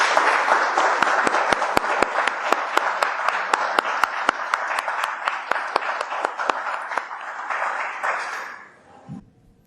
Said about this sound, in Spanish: brindar un fuerte aplauso a nuestra invitada del día de hoy